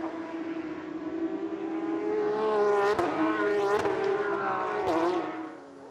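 Porsche Carrera Cup race cars at Road Atlanta roar past with a rising engine note, two sharp pass-by sweeps around the middle and another near the end, loud and close, over steady track noise.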